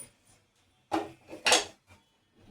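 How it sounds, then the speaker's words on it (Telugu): A metal lid is set onto a cooking pot of carrot halwa with two or three close, sharp clanks and a rattle in an otherwise quiet kitchen. "ఇలా మూత పెట్టేసి ఇవ్వండి"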